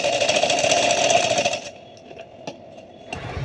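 Sewing machine stitching a baby frock, a fast steady mechanical whir for about a second and a half that then stops, leaving a few faint clicks and handling taps.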